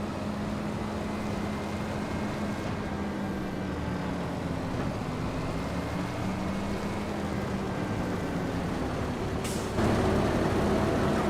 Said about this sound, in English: my harvester is finally off and going